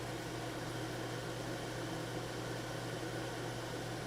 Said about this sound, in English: That's the sound of fume extraction.